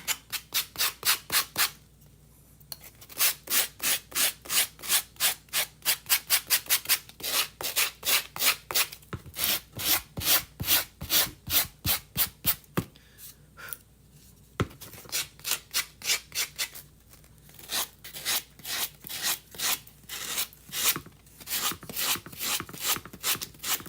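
A fingernail rubs chalk art paper while transferring a reindeer design: quick, close scratchy strokes repeat in steady rhythmic bursts with brief pauses, and no one speaks.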